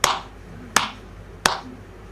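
A roti maker claps dough-covered hands to draw attention, three sharp, close, evenly spaced claps with a short ring after each.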